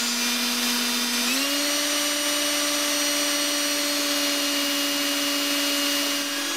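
A power drill whines steadily at a constant pitch, shifting slightly higher early on, then running continuously as a 1/8-inch bit bores through brass rod.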